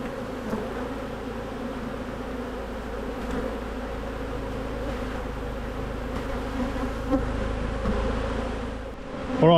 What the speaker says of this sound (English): I'm going to plonk the next box on and start shaking nurse bees into the